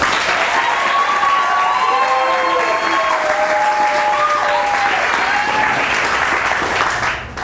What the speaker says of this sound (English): Round of applause if you were here to support somebody who you know.